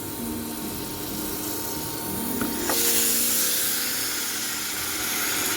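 Marinated chicken goes into hot spice masala in a pan for a Bengali chicken curry, setting off a sudden loud steady sizzle and hiss that continues to the end.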